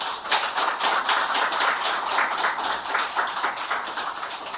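A church congregation at a Korean New Year's Eve service applauds warmly, many hands clapping in a dense, continuous patter with a loose pulsing rhythm.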